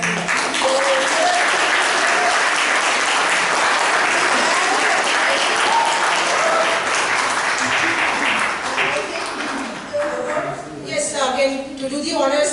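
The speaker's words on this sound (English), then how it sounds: "a big round of applause to the team" A theatre audience applauds steadily and loudly for a play's cast, the clapping thinning out toward the end as voices start to come through.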